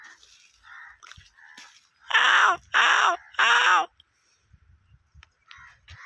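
Crows in trees give three loud, harsh caws in quick succession, bracketed by quieter, fainter sounds before and after.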